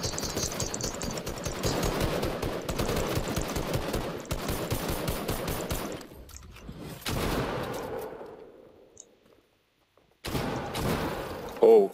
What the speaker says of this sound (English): It's like all four of us were like shooting at him at once.